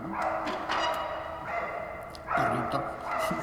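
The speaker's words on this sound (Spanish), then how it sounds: "¿Dónde está el perro?" A dog barks repeatedly nearby, several drawn-out, whiny barks in uneven bursts, fairly loud and with no talk over them.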